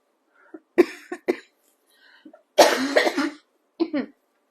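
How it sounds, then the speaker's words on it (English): A person coughs several times in short, harsh bursts, close up, with a longer rough coughing fit in the middle and brief throat sounds between. "My cold last week is still hanging on in a cough."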